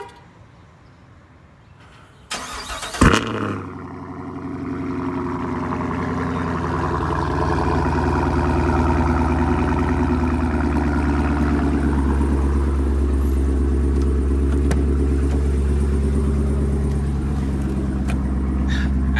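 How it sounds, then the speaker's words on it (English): A 2017 Chevrolet Camaro SS cold-starts after sitting over a week: a sharp crank and loud bark flare up, then the engine settles into a deep, steady, rumbling idle heard close and alone. "I just want to give you a cold start real quick."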